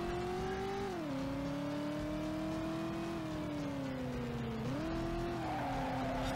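A car in the video game Driver accelerates hard, its engine note climbing and dipping through gear shifts, loud and steady with tire noise underneath.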